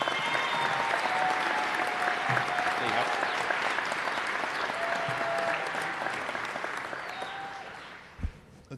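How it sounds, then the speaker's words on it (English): An audience at an NYPD promotion ceremony in New York City gives dense, sustained applause that holds for several seconds before tapering off, with a few voices mixed in. "Terry, they were clapping because I told them to clap for you."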